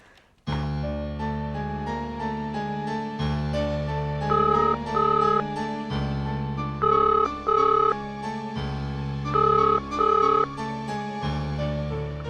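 A looping electronic phone ringtone chimes a repeating melodic pattern, loud and close, playing alone in a Hindi TV drama scene.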